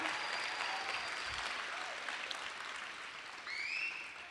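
Audience applause at a school event, steady broadband clapping from a crowd, fairly distant and uniform, with a few whoops rising above it.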